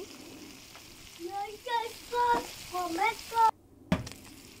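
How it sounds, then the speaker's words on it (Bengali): Small puti fish fry in hot oil in a home kitchen, with steady sizzling and crackling through which a few clear bird chirps can be heard, followed by a sharp clack near the end. "প্রথমে আমি মাছটা তেলের মধ্যে ভেজে নিচ্ছি।"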